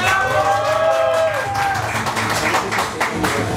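Applause from a crowd at a Halloween costume event, scattered clapping and cheering mixed with a voice and music, continuing steadily for a few seconds.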